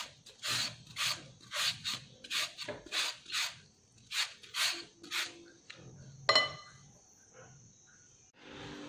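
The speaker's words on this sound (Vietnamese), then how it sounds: "Khoai môn mình đã bào xong rồi nè." Taro root being grated by hand, a rhythmic series of close, scratchy rasping strokes roughly twice per second, followed by a sharp clatter and quieter handling noises.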